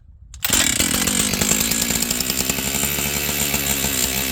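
A Husqvarna 268XP chainsaw bought at auction fires up after a brief rustle and runs loud and close, its engine buzzing steadily with a rough, uneven throttle pulse.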